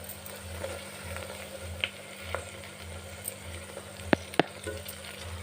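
Onions and mint leaves fry in a pan for a restaurant-style veg biryani, with a steady sizzle, a low pulsing burner hum and a few sharp clinks of a spoon against the pan.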